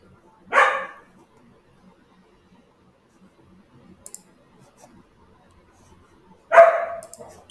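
A dog barks twice somewhere nearby, a short sharp bark at the start and another several seconds later, separated by quiet room tone with faint clicks.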